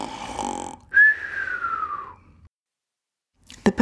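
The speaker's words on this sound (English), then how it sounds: "Joe kept snoring" A man snores once in a long, drawn-out, whistling breath that slides downward, set between other faint sounds and followed by a brief silence.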